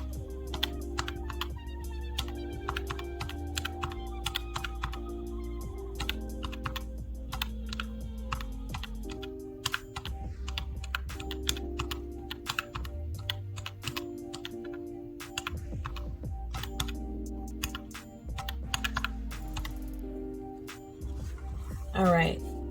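Numbers tapped into a keyboard while adding up sinking funds for a monthly budget: steady, close clicking of keys in short bursts over about twenty seconds, with a low hum of background music underneath.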